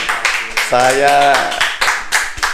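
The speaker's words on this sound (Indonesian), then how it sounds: "tepuk tangan itu" An audience claps at a land-office program launch in Gresik, East Java, as a run of sharp, rhythmic hand claps while a voice speaks over them into a microphone.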